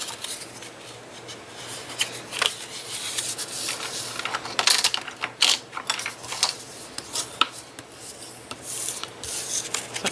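Cereal box cardboard being folded and burnished by hand for a locker storage craft, giving repeated soft rubbing and crisp creasing scrapes at close range, with no talking.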